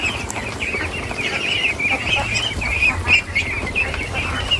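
Farm fowl, ducks, call in a steady stream of squawks and clucks, fairly close and layered over a constant low rumble, with no talking.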